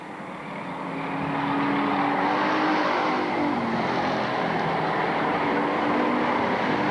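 Bomber-class race cars roar side by side down the backstretch at Lakeport Speedway, a loud, sustained engine drone with a steady pitch that swells slightly as the pack passes.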